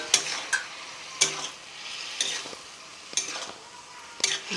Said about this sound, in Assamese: ভাজি থোৱা পিঁয়াজখিনি দিলোঁ। তাৰপিছতে ভেন্দিটো দি দিলোঁ।